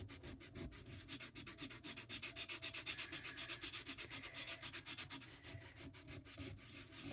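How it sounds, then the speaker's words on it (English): Embossed paper is sanded with sandpaper in a garage, a rapid rhythmic back-and-forth scratching of even strokes, close and steady throughout, with no talk. "all I did, was I just sanded it down"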